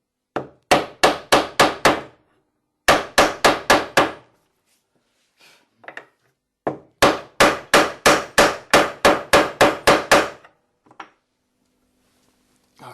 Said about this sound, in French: j'enfonce légèrement à la main et je finis au marteau.